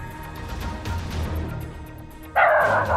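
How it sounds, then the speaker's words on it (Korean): A mixed-breed dog barks in a sudden loud burst near the end, preceded by quiet outdoor street ambience. "다른 사람이 부르니까 짖네?"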